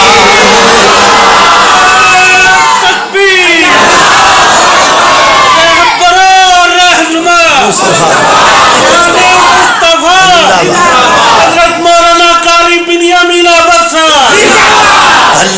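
A large crowd at a religious sermon shouts slogans in loud unison bursts, separated by brief pauses, with the massed voices close and overwhelming.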